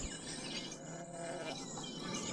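Sheep bleat repeatedly from a flock on grazing land, a steady, dense chorus of overlapping calls at moderate distance with no speech.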